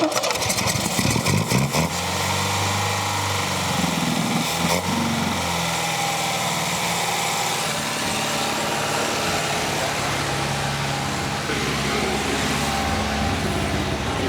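A 1979 MG engine, brought back after decades of sitting, cranks and catches, then settles into a steady, loud, close idle that runs unbroken for the rest of the stretch.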